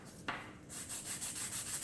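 A Kettlewell chromatic harmonica part is sanded by hand with 500 grit sandpaper: one sharp scrape, then steady, rhythmic close-up rubbing strokes with no talking.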